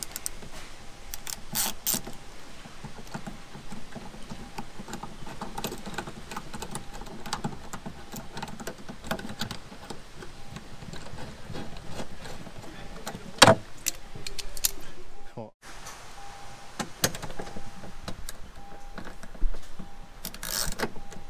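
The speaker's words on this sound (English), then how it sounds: "Now we've got our 10mm quarter drive. I've connected our socket in here, just a little retaining bolt." Quarter-inch drive ratchet with a 10mm socket tightens a small retaining bolt during a 12V wiring install in a touring vehicle, giving runs of close, light mechanical clicks over a quiet background.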